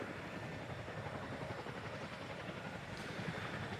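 Chinook tandem rotor helicopter: a steady, dense rotor and engine drone that holds at an even level from start to finish, with no talk over it.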